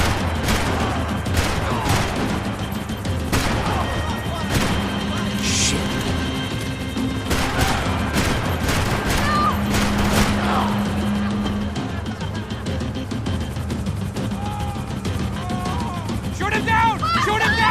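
Gunfire in Max Payne 3 during a vehicle chase, made of rapid, repeated sharp shots and bursts that run throughout. Engine noise and shouting voices sit underneath.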